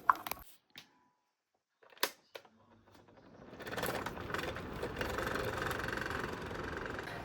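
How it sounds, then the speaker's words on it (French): An electric fan running behind settles into a steady whirring hum after a few sharp clicks and knocks, continuing evenly to the end without talking. "j'ai le ventilo qui tourne derrière"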